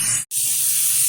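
Pumpkin pieces hit a hot pan to fry, a loud close hiss that drops out for an instant and then continues steadily.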